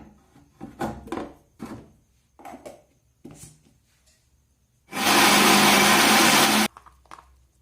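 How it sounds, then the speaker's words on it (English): A kitchen blender blends aloe vera gel to a smooth consistency: a loud, steady whir that runs for about two seconds, preceded by a few bumps and clicks as the lid and jar are handled. "I put it in my blender and I blend it to a very smooth consistency, very smooth."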